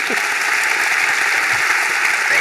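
An audience at a book interview event claps loudly and continuously for the author, a thick, steady burst of applause with no voices on top.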